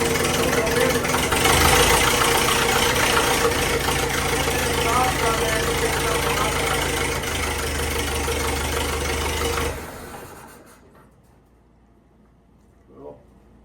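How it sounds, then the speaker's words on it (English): A 1923 Ford Model T engine, just hand-started with a new muffler, idles loudly and steadily for about ten seconds, then cuts out, leaving near silence broken by one faint knock. "We just started it by hand."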